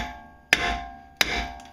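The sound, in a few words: hammer striking brake rotor to loosen it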